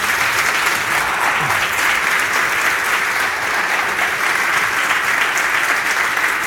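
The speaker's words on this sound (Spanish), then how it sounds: "denle un gran aplauso al Señor" Church congregation clapping steadily in sustained, dense applause filling the room, with no voices rising above it.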